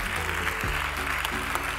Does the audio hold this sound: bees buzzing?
no